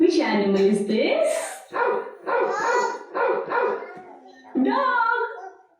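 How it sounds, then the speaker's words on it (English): A dog barking in a series of short, loud, close barks and yips in irregular bursts, with a whimpering edge to some calls. "Dog."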